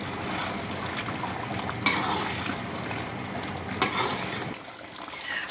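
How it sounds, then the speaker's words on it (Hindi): Beef karahi being stirred in a pot after a spoonful of white karahi masala goes in, a steady wet sizzle and scraping with two sharper clinks of the spoon against the metal, close and alone. "अब मिक्स कर देंगे।"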